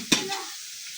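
Sliced onions fry into birista for a goat biryani, a steady hissing sizzle in hot oil that opens with a sharp clatter of stirring and fades to a softer, even crackle.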